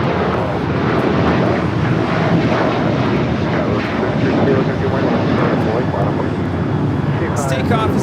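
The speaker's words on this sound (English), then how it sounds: "This takeoff is United Airlines 1791, taking off to San Francisco on the 737-800." A United Airlines Boeing 737-800 takes off at LAX, bound for San Francisco, with a loud, close, steady jet roar that fills the whole stretch without easing.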